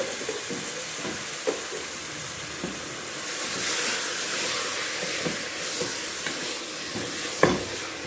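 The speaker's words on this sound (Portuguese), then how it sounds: "a gente vai deixar fritar bem, dar uma seladinha" Chopped beef chuck sears and fries in a hot pan with a steady, bright sizzle, broken by occasional stirring scrapes and small pops.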